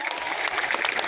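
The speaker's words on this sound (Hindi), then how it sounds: "थोड़ी तालियां बजाएं इनके लिए।" Audience applause at a direct selling seminar, a brief burst of dense clapping heard throughout at moderate distance.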